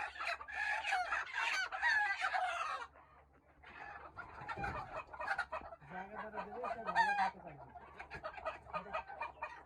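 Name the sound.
desi chickens and a large rooster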